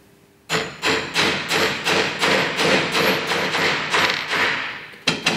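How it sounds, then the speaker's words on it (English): Steady, evenly spaced hammer blows ring out close by, hammering a bearing seal into a Johnson 30HP outboard bearing carrier, about ten heavy metallic strikes in a row, then a brief pause and another hit. "I'm just going to hammer this in rather than using the press"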